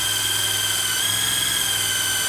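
A power drill runs continuously with a steady high-pitched motor whine and a constant grinding hum, loud and close, without pauses, while installing a receiver hitch on a Ford E-Series van chassis.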